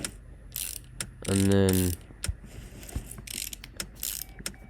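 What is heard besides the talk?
bolting parts onto an engine in Car Mechanic Simulator video game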